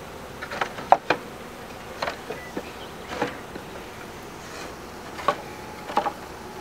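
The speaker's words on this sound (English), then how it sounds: "The bees are still in there, nice and tight." Honey bees in a package being installed into a hive, humming with a steady close buzz and scattered light clicks and taps, no voices.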